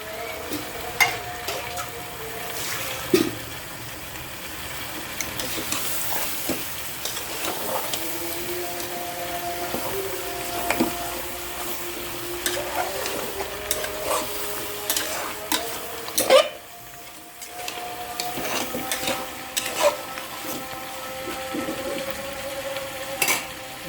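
Goat head curry fries and sizzles steadily in a pan without water, with repeated scraping and stirring clatter throughout, fairly close, no talking.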